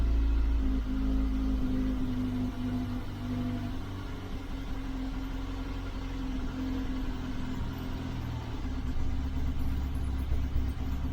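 An Austin Allegro A-Series engine idles on partial choke, a steady low mechanical drone with a faint tonal hum, close and continuous with no talking.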